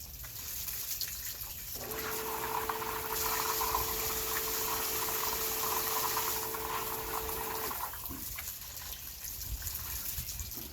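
Small sand filter pump on an above-ground Intex or Outbound pool running on the rinse setting, a steady close whoosh of rushing water with a constant hum throughout, a sustained tone entering partway and then stopping near the end.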